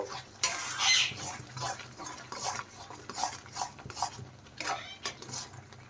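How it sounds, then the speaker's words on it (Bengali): Masala for a chickpea curry (chole) is fried and stirred in a pan, a spoon scraping and knocking in repeated, fairly regular strokes close by over a low background hum. "এখন আমি মশলা ভালোভাবে কষিয়ে নেব।"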